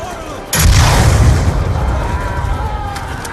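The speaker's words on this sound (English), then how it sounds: "You just fire it right above their head and then press L1 to detonate it" A Stinger missile fired and detonated in Black Ops II, a sudden heavy boom with a deep rumbling tail that fades over a couple of seconds, followed by faint clicks.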